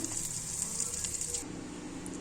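Raw coriander powder fries in a pan with a steady, close hiss of bright sizzling and crackle that thins out toward the end, heard alone without talk.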